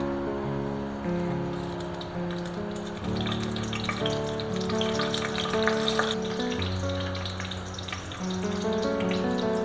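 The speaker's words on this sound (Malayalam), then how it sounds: "അതിലേക്ക് 2 വറ്റൽമുളക് മുറിച്ചിടുക" Dried red chillies, cut and dropped into hot oil for a Kerala-style tempering, sizzle and crackle steadily and loudly for the whole stretch, with no talking.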